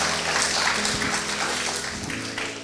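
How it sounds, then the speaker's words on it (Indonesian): Congregation at a Sunday church service clapping in applause, a dense, steady patter of many hands that holds for a couple of seconds at moderate loudness and then tapers slightly. "Boleh kasih tepuk tangan buat Melina?"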